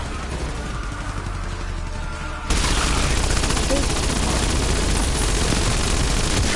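Gunfire and cannon blasts in a Call of Duty video game, a dense, continuous barrage that jumps louder partway through and then keeps roaring without a break.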